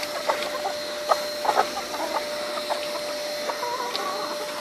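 A flock of chickens clucks while fighting over scattered feed, giving short squawks and bursts of clucking close by. A steady mechanical drone runs underneath.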